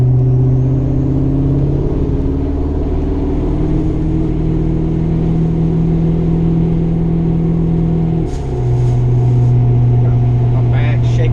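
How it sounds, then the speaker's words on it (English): A pickup truck cruising with tires out of balance, its engine and road drone holding steady and loud throughout, with a brief dip and rattling, shaking noises from inside the cab near the end. "You can hear everything shaking in here. My tires are not balanced right."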